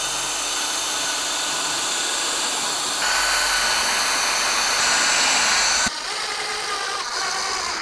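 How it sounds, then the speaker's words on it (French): A power drill bores pilot holes into wood, a loud steady whine that shifts pitch in stages and cuts off sharply near the end, with no talk. "J'enlève celui-ci et je vais faire mes pré-trous."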